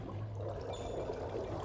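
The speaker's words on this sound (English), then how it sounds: "it's gonna automatically start pumping water in today." Water tower pumping water in the SimCity video game, a steady low rushing flow with a faint trickling texture, continuous and even throughout at moderate level, heard alone without voices.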